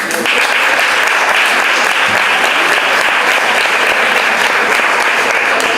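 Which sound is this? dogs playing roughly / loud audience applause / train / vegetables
loud audience applause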